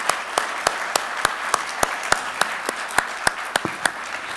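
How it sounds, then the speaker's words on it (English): Audience applauding for a speaker after an energy-themed session, a lively crowd clapping with sharp, regular loud claps from one nearby person standing out above the steady wash. "Join me in a round of applause for Roger."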